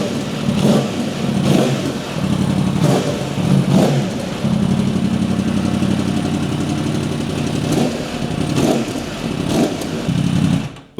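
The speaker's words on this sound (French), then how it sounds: "Donc là, on a fait chauffer la moto." A Yamaha R1 motorcycle engine warming up, revving repeatedly in short bursts over a steady, close idle rumble, loud and alone throughout.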